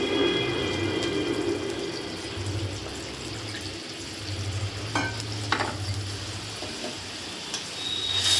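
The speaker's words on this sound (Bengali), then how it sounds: "আর একটু জল দিয়ে দিব যে দই ছিল সেই বাটিতে করেই জলটা দিয়েছি" Water added from a curd bowl to a sizzling pan of pointed gourd curry in a home kitchen, steady frying hiss and bubbling with stirring scrapes, close and continuous.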